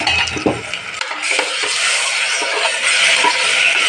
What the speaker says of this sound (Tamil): சிக்கனை வந்து நல்லா கொஞ்சம் ஃப்ரை பண்ணிவிட்டு